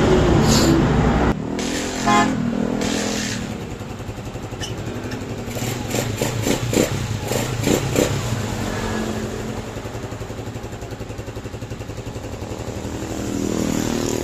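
A Euro 150 motorcycle engine, one that stalls when shifted into gear, starts and idles with a steady putter after a couple of short revs, close by with no talk.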